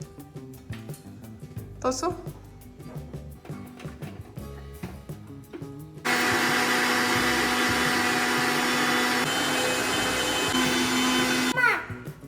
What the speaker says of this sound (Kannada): ಕಾಯಿನ ಸಣ್ಣಗೆ ರುಬ್ಕೋಬೇಕು.